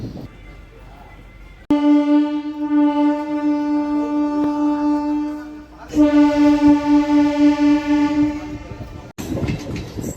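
A MEMU passenger train on the Renigunta–Nellore route sounds two long, loud horn blasts over the steady rumble and clatter of its running.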